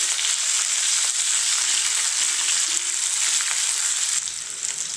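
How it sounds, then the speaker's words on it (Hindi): Green chillies fry gently in oil over a low flame, giving a steady, close, even sizzle throughout with faint scraping ticks and no talking. "फ्लेम को लो करें, इन्हें हल्का सा फ्राई कर लेंगे।"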